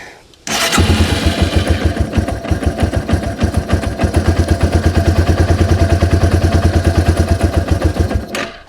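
A Yamaha TW200 motorcycle engine idles at raised RPM after starting, giving a fast, steady, loud single-cylinder chugging with rapid even pulses close by.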